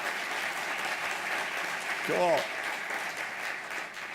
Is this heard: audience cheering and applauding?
yes